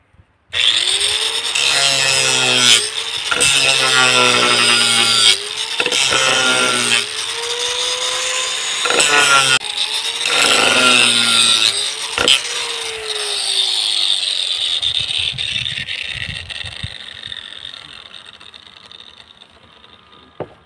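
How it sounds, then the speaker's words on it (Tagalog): An angle grinder cuts into the end of a manhole pipe, a loud whining screech in repeated bursts separated by brief pauses, then winding down to a fading spin at the end. "Nakuha ko muna yung grinder kasi po kailangan pong i-grinder po itong dulo po ng tubo."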